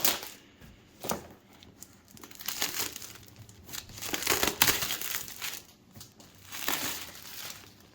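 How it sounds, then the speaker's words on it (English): A ceramic knife slices through product packaging, giving a run of close crinkling, tearing and crunching bursts that come in irregular strokes with no talk over them. "I'm going to get my ceramic knife here to cut through the packaging."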